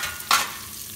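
Carrots and cabbage sautéing dry with chili flakes in a pan, giving a brief burst of sizzle and a stir about a third of the way through, otherwise quiet, no talking.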